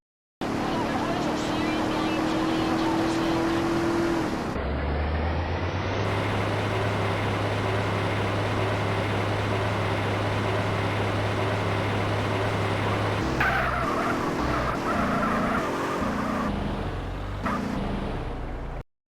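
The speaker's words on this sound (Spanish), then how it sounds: "al alcanzar la máxima velocidad, suenan como un camión tanquero o algo similar" A car engine in GTA San Andreas Definitive Edition drones steadily at top speed with a constant pitch, heavy and tanker-truck-like, with background game sounds shifting near the end.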